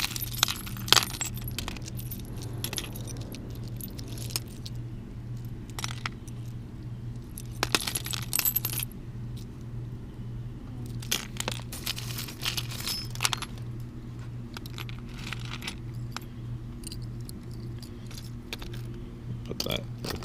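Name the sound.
keychains jangling while sorting jewelry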